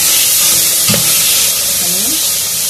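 Chicken pieces sauté in a pan with a steady, loud sizzling hiss filling the whole moment, close up, with a brief clink and faint stirring sounds partway through.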